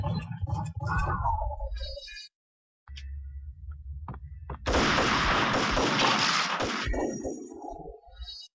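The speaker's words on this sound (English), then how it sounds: "Shooting through the frickin' wall." Gunfire shooting through a wall in the video game Max Payne comes as scattered sharp shots, then a dense, loud burst of rapid fire lasting a couple of seconds before sporadic reports trail off.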